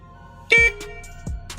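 An XCMG construction machine's horn gives two short, close honks about three-quarters of a second apart, the first slightly longer, with engine rumble underneath.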